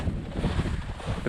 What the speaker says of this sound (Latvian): šodien tāda vējaina diena